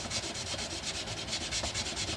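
Abrasive grit sanding a metal guitar part, heard as a steady, close scratchy rubbing with regular back-and-forth strokes, quite loud and continuous with no talk.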